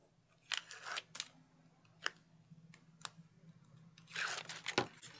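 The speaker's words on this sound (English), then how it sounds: "Now I'm just going to peel away the backer." Backing peeled away from an adhesive sheet during a papercraft stationery project, heard as bursts of close, crisp tearing and crinkling. Quiet pauses fall between the bursts, and a longer rip comes near the end.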